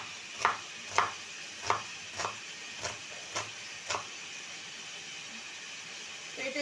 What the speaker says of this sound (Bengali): ততক্ষণে আমি এখানে পেঁয়াজটা কুচি করে নেব